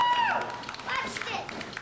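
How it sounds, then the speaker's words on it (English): Wrestling crowd at a Hybrid Pro Wrestling show clapping and cheering through an early mat exchange, a steady busy wash of applause and voices with scattered louder claps, fairly near and full. "Crowd enjoying this matchup so far."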